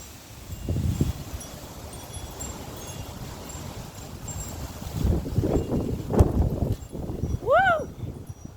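Strong wind on an extremely windy day under a high wind warning roars steadily outdoors, with gusting surges, rustling and buffeting against the microphone, while people's voices come through at times.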